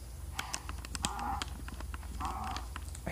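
Horse in the Minecraft video game, heard as a couple of short, soft whinny-like calls over a steady low game-ambience hum with scattered faint clicks and taps.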